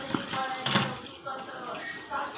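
Palm fruits being washed by hand in water, with splashing and sloshing in short bursts under a woman's speech.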